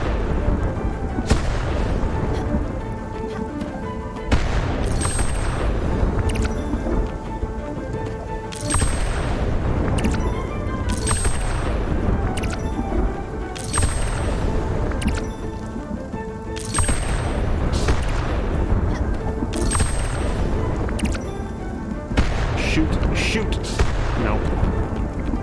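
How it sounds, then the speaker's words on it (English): Heavy thunder rolls through a storm in the video game Spiritfarer, deep booming cracks repeating every few seconds over a continuous loud rumble. "I'll wait until the thunderstorm is done."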